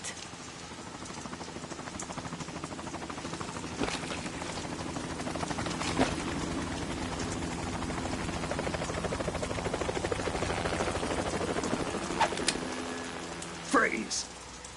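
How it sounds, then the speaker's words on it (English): A video-game helicopter drones steadily with a rotor hum, a continuous mid-level engine wash across the span under the game's background sounds, ending with a brief sharper burst. "You will be on the helicopter out of here now."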